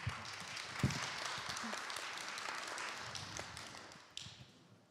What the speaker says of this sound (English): Please give me a big round of applause to Youngmi-ji